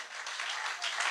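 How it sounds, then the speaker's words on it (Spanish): A congregation claps their hands together at a church service, producing dense, steady applause that fills the space for a short burst with no voices over it. "Dele fuerte esas palmas al Señor."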